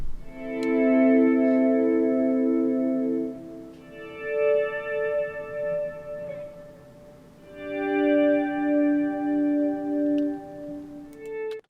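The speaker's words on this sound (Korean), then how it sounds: "스웰은 일명 갈매기라고 불리는 주법인데요. 음을 연주한 뒤 볼륨 페달을 열어서 리버브와 딜레이 등으로 공간감을 표현해주는 전주법입니다" Electric guitar swells played with a volume pedal, notes fading in smoothly and blooming with reverb and delay into a spacious, sustained wash; three long swelling phrases, loud and alone with no talking.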